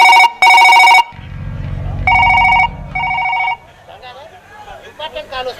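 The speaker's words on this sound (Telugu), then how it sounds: "కాల్ వస్తుంది, నేను మాట్లాడి వస్తాను" A telephone rings in a short electronic pattern of two bursts, a pause, then two more bursts, loud and close, with a low hum and faint chatter in the room between and after the rings.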